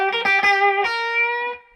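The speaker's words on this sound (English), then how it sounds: "the Deluxe Reverb cleans up too, but it still sizzles a little bit" A guitar's treble pickup drives a Fender Deluxe Reverb amp into light breakup, a few struck chords ringing with sizzly harmonics, loud and close, then decaying over nearly two seconds.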